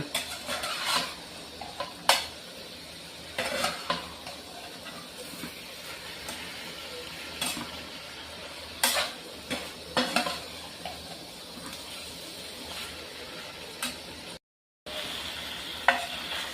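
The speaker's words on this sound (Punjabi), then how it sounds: "ਹੁਣ ਇਹਨੂੰ ਨਾ ਥੋੜਾ ਜਿਹਾ ਹਲਾਉਂਦੇ ਰਵਾਂਗੇ ਵਿੱਚ ਵਿੱਚ" Pumpkin halwa is stirred in a pan, with soft scraping and stirring strokes and a faint sizzle, plus a few sharper clicks of a utensil against the pan at irregular intervals, quiet and close.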